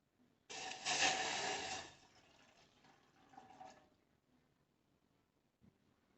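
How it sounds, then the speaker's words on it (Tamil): Milk is poured from a container into a pot on a stove to make ginger milk tea, a short, soft splashing pour lasting about a second and a half, then a quieter trickle and near silence. "அதில் நம்ம எடுத்து வச்சுருக்கிற பாலை இதில் சேர்த்துப்போம்."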